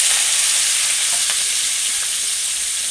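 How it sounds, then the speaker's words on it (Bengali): Onions hiss and sizzle steadily in hot white oil with green chilies, cooking for egg chicken chowmein, a constant broadband frying noise with faint crackles and no talking. "পেঁয়াজটা একটু ভাজা ভাজা হবে"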